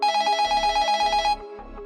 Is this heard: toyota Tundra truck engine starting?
no